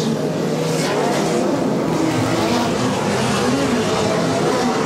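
Midget race cars roar around I-70 Speedway during a race, a dense, steady engine drone filling the whole stretch at close range and high volume without letup.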